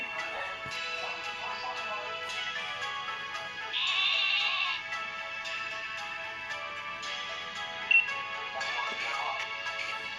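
Bleating sheep in the Pokémon Shield video game on Switch, synthetic calls repeating over looping electronic game music, with a brief brighter tone in the middle.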